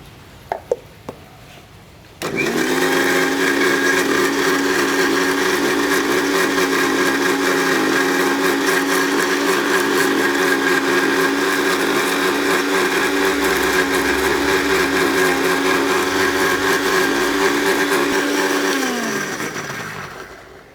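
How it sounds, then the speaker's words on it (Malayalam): A mixer grinder blends aloe vera with rice water, starting abruptly after a few faint clicks and holding a loud, steady whirring drone for about eighteen seconds before winding down at the end. "ഇനി നമുക്ക് കുറച്ച് കഞ്ഞിവെള്ളമോടെ ചേർത്ത് അരയ്ക്കാം."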